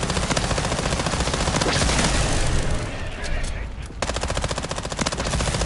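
Rapid video game gunfire bursts steadily and loudly through most of the stretch, with a brief lull before it resumes, while players talk over it.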